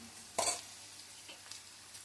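Ginger, garlic and turmeric fry in a pan for a bean-free ridge gourd and moong dal curry, a soft sizzle with one louder scrape of a spoon stirring near the start, then quiet light clinks.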